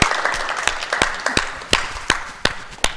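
Applause from a small forum audience after an evening talk, sparse scattered claps with a few distinct sharp hand strikes standing out over a softer background of clapping.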